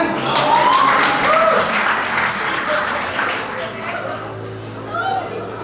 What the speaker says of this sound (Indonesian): Ya boleh tepuk tangannya